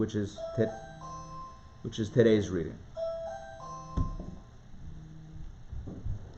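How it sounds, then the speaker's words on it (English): A doorbell chimes several times in a melodic ding-dong pattern while a person talks over it nearby. "No, that's my doorbell."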